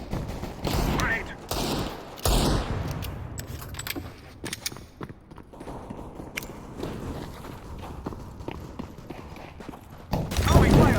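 Grenade throws and gunfire from a CS:GO match ring out in dense bursts, with sharp clicks, footsteps and metallic clatter, and the loudest blast landing near the end; players talk throughout.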